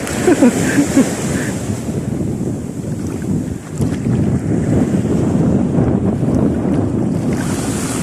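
Choppy sea waves surge and churn around a boat on murky water, a loud, constant rushing roar mixed with heavy wind noise on the microphone.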